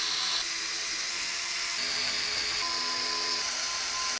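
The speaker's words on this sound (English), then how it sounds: "Then we can secure the motherboard to the case using the screws from the case accessory box." Electric screwdriver driving screws to secure a motherboard inside a Cooler Master MasterBox 520 PC case: a steady high-pitched motor whine, close and continuous, shifting pitch slightly as screws seat, then stopping abruptly.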